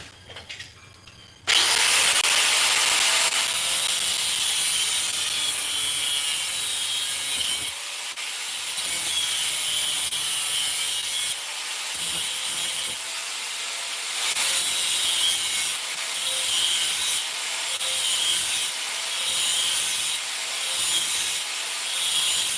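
Hand sawing through the tang of a knife in a dyed, stabilized white ash handle, a steady rhythmic back-and-forth rasp that runs loud and close for about twenty seconds with brief pauses between strokes.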